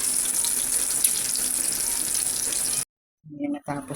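Stuffed eggplant frying in oil in a pan gives a steady, loud sizzle for nearly three seconds, then cuts off abruptly before a few brief clattering and shuffling sounds.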